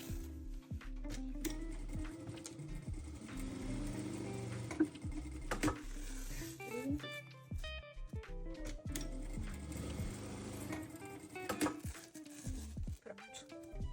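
Sewing machine stitching along the side of a fabric bag, a mechanical whirring run with clicks and short stops between bursts, close and moderately loud, with no speech.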